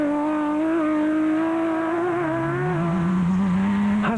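A Team Ford Racing Ford Ranger rally truck in the 2003 Sugarbelt 400 rally, its non-V8 engine holding a loud steady droning exhaust note, pitch wavering slightly then dropping near the end.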